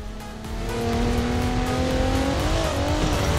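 An Audi in the racing game Forza Horizon 4 pulls onto a street, its engine revving loud and close with a steadily climbing pitch and a brief shift near the end.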